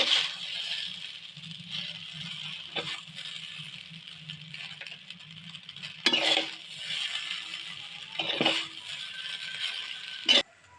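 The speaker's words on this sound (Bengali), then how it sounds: "নেড়ে চেড়ে মিশিয়ে নেব" A spatula scraping and clinking against a pan while egg chowmein is stirred with salt, pepper, chowmein masala and chat masala, a soft continuous rattle broken by a few sharper metallic knocks.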